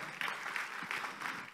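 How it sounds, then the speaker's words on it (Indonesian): Congregation clapping during a Sunday worship service: a moderate, rhythmic patter of many hands in repeating bursts, heard in a reverberant hall. "Tepuk tangan bagi Dia."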